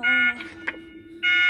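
A synthetic electronic alarm tone in a video game sounds twice in short bursts, broken by a brief click, with no talking.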